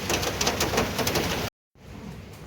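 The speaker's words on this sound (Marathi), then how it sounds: "आज बाहेर छान मस्त पाऊस पडतोय" Monsoon rain falls outside as a dense, close patter of drops with brief tapping accents, cutting to a moment of silence before resuming more softly.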